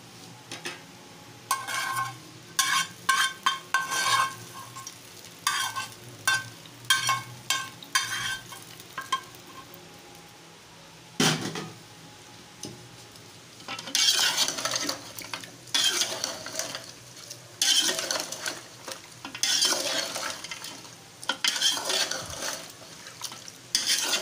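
Fried onions being stirred into mutton paye cooking with yogurt in a metal pot, with repeated scraping and clinking of a spoon against the pan, short bursts of stirring and sizzling separated by pauses, close and fairly quiet.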